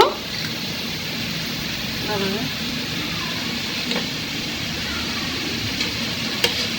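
Dried sidol shutki fish hits hot spiced oil in a pan, giving a steady close sizzle and crackle throughout, with a few sharp pops and a voice talking over it.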